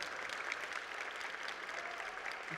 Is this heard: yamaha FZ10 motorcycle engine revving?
no